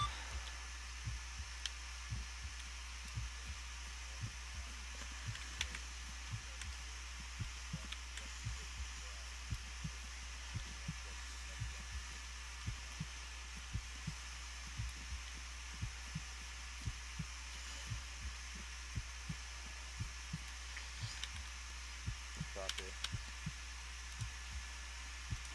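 A heavy, steady heartbeat effect thumps through a military video game (Arma, 21st MEU op), regular low pulses repeating over a constant background hum, faint and with no clear speech.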